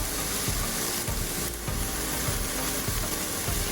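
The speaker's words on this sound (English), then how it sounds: "Gonna give this a stir" A harira soup mixture with cilantro and parsley being stirred in a pot, giving a loud, dense, continuous sizzle and hiss with faint stirring movement underneath.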